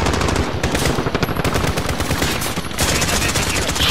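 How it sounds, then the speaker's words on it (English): Rapid automatic fire from the Grau 5.56 rifle in Call of Duty: Modern Warfare, a loud, dense and unbroken stream of shots lasting several seconds with a brief dip near the end, with no talking. "Rapid fire that it burns out the clip so fast."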